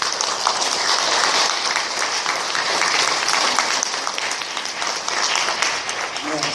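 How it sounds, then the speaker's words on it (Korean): Sustained applause fills a church during Mass, celebrating a parishioner sister's 80th birthday, with steady clapping from a congregation holding an even loudness throughout. "박수 한번 쳐주세요."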